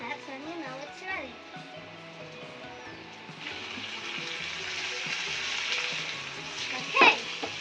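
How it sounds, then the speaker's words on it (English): Chicken stir-frying in a pan at home, a steady sizzle that swells after a few seconds and holds, with a brief clatter near the end, while a voice talks over the start. "let's add the chicken and stir fry it until it's cooked through little golden"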